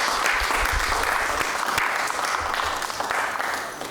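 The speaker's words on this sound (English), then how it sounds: "I think we ought to just give them a round of applause for what they do for us" Audience members at a county commission meeting give a round of applause, a short, even burst of many hands clapping at moderate loudness throughout.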